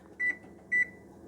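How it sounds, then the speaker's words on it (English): A kitchen timer, set while making apple cider, gives two short electronic beeps about half a second apart, close and clear over a faint room hum. "So I'm going to go ahead and set the timer for an hour and a half."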